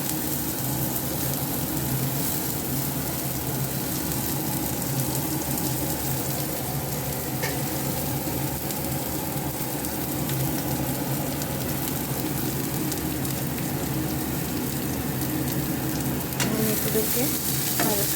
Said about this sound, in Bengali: এগুলোকে হালকা নেড়ে তেজপাতাটা বেশি ফ্রাই হয়ে যাচ্ছে, তুলে রাখছি।